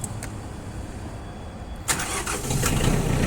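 A Mitsubishi MT-337 tractor's diesel engine cranks briefly, then catches and settles into a steady close running rumble.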